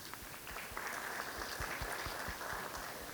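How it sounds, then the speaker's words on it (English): Clapping from an audience at an interreligious tolerance gathering keeps up for about three seconds, a steady mid-level patter with some distinct hand claps. "can we give the ladies a round of applause"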